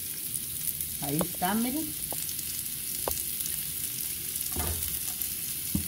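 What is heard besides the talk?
green chile and white onion frying in a pan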